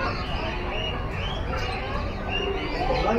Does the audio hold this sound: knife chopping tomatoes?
no